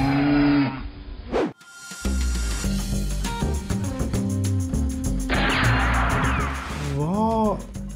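A white cow moos once or twice in low, drawn-out calls, mixed under loud background music with no clear speech.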